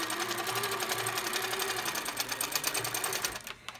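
A quilting sewing machine runs in a steady, rapid whirr of stitches while basting the backing fabric into place, continuous at moderate volume before stopping abruptly at the end.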